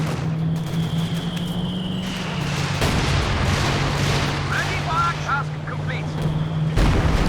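A walking Stuka bombing run in Company of Heroes 2 sends a string of heavy explosions and booming artillery-like blasts rolling over a droning engine hum, loud and sustained, with a commentator talking throughout.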